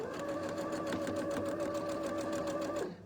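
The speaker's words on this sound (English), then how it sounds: "So we're going to sew our 1/4 inch." A sewing machine runs steadily as it stitches a quarter-inch seam on a half-square-triangle quilt block, a close, even mechanical whir with rapid needle strokes that stops abruptly near the end.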